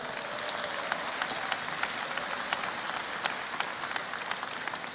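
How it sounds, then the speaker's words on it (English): A large audience claps steadily at a business seminar, a dense, sustained wash of applause with scattered sharper individual claps throughout, loud and continuous with no talking over it. "Give Rick a round of applause for that"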